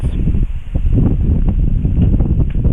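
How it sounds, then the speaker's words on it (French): Strong wind buffets the microphone on an Irish road during a motorcycle road trip, a loud, continuous roar with irregular gusting surges over the low rumble of the ride. "Et il y a du vent de malade qui nous déporte aussi sur la route."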